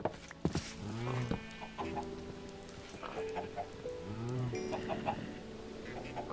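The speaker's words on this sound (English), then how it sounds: "Feed all the little chickens." Minecraft chickens cluck in several short bursts spread over a few seconds, fairly soft and mid-distance, with other game noises and faint background sounds underneath.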